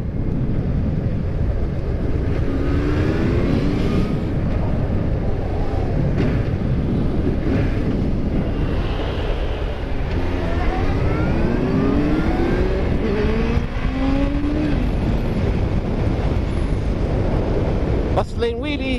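A motorcycle accelerates hard into a wheelie in a city bus lane, its engine revving up through rising gear sweeps beneath constant loud wind buffeting on the rider's microphone.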